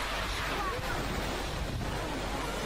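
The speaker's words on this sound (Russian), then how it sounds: "На море накат." Sea surf rolling onto a beach at Sochi on a calm day, with swell driven in from far out at sea: a steady, broad wash of breaking waves with some wind noise across the microphone, continuous and moderately loud, with no talk.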